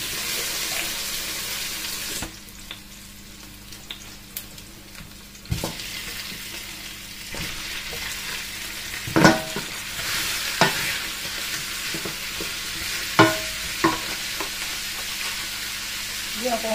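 Garlic and onion sizzle in a hot pan with stirring scrapes and clinks, a steady frying hiss broken by louder utensil knocks and a brief running-water rush near the start.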